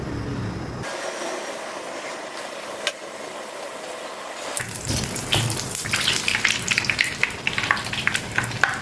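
Uggani bajji batter, a Rayalaseema puffed-rice fritter with green chillies, drops into hot oil on a medium flame. After a quieter opening, a loud, dense crackling sizzle bursts in and keeps popping steadily to the end.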